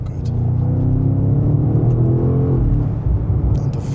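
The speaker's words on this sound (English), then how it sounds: "And the V8 just pulls and pulls and pulls." The V8 engine of a 2025 BMW M5 G90 roars steadily as it accelerates, a deep rumbling growl holding loud and close for several seconds.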